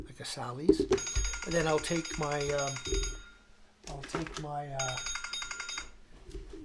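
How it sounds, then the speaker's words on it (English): A telephone rings in bursts during a fly-tying session at the bench, its steady electronic tone sounding twice in long stretches while a person keeps talking over it. "sorry about that phone call"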